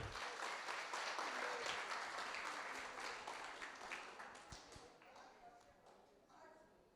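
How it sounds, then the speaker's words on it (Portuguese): Auditorium audience applause welcoming a godmother speaker at the opening of a cultural seminar for the 80th Festa do Vaqueiro, faint and distant, thick at first and gradually thinning into scattered claps. "Então vamos acolher com salva de palmas a madrinha Socorro Girão."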